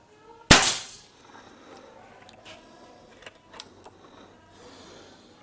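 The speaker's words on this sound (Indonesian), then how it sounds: "tembakan ketiga" One sharp, close shot from a PCP air rifle firing a pellet, a loud crack with a short decay, followed by faint ticks and rustling in a quiet outdoor setting.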